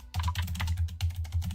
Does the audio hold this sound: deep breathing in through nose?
no